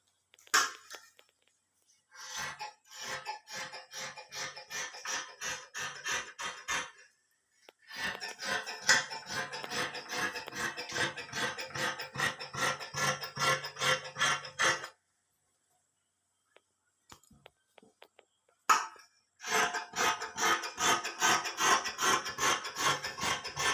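Scissors cut kurti fabric around a V collar neckline, making close, rapid rhythmic snipping in long runs broken by short silent pauses.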